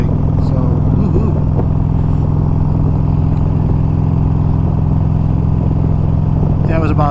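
A Harley-Davidson Electra Glide rumbles steadily and loudly throughout a fall ride in New Mexico, its engine droning with continuous wind and road noise.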